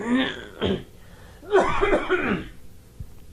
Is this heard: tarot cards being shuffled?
no